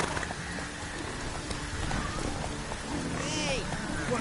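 Roach, Geralt's horse in The Witcher 3, gallops along with steady, rhythmic hoofbeats under continuous voices, amid a soft wash of ambient game sound.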